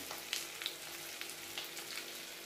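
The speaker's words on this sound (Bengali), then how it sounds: "আমি এই লঙ্কার গুঁড়ি দিচ্ছি।" Chili powder hits hot oil in a pan while cooking prawn curry, giving a steady, faint, even sizzle with a few small crackling pops and no talking.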